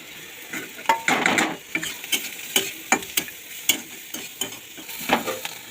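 Beans, onion and other vegetables frying in a pan with spices for a chicken roll filling, a steady sizzle broken by a series of sharp utensil scrapes and clinks against the pan, close and clear without speech.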